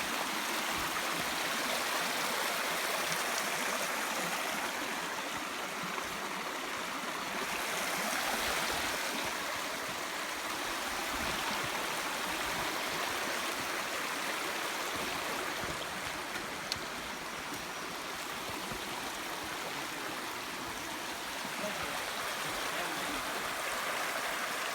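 Blackwell Creek rushes along the Appalachian Trail, a continuous broadband wash of flowing water, close and steady throughout with no voices.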